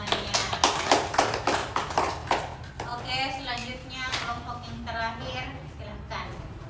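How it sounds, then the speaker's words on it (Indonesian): A classroom audience claps for a student after a group presentation on using social media wisely, a burst of several seconds that gives way to talking voices. "Oke, beri aplaus untuk temannya."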